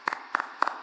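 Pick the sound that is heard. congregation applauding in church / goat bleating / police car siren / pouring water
congregation applauding in church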